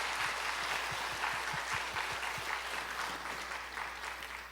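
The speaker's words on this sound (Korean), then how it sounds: "우리 귀한 말씀 전해주신 목사님께 우리 감사의 박수 하도록 하겠습니다" A church congregation applauds after a Sunday service sermon, a dense, steady roomful of clapping that holds evenly for several seconds.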